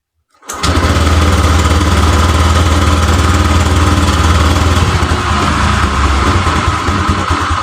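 Honda Vario 125 scooter engine, fuel-gauge light blinking and overheating, catches after brief silence and settles into a steady, loud, close idle with a low rumbling throb that holds for the rest of the stretch.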